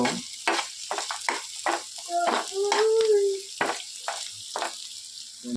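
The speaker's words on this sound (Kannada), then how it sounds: "ಮಶ್ರೂಮ್ ಗ್ರೇವಿಗೆ ಈರುಳ್ಳಿ ಫ್ರೈ ಮಾಡ್ಕೊಬೇಕು, ಗೋಡಂಬಿ ಫ್ರೈ ಮಾಡ್ಕೊಬೇಕು" Onions and cashews fry for mushroom gravy, a sizzle broken by repeated stirring scrapes and clatters, with a brief tonal squeak midway, fairly close and without speech.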